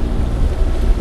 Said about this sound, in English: I'm going by engine 6-7 knots again